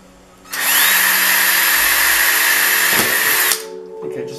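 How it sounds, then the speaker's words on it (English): A power drill with a 1/8 inch bit bores a pilot hole for a pop rivet in a helmet, a loud steady high whine lasting about three seconds before cutting off abruptly, close and alone. "So for the pop riveter to work, I need to drill a hole. This is a 1/8 inch drill bit."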